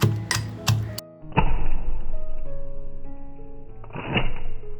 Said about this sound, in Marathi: छान बघा ठेचून झाले.